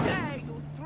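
A fire spell is cast in the wizarding game Hogwarts Legacy: a short, loud burst with a boomy low end, lasting about a second, with voice-like tones mixed through it.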